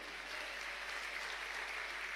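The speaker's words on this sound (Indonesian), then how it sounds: "Beri tepuk tangan buat dia" Steady, dense applause from a large church congregation during a sermon, continuous and even throughout with no voices standing out.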